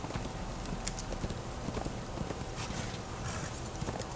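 Horse galloping in the video game Darksiders, a steady clip-clop of hooves running under a constant wash of game ambience, fairly quiet and continuous.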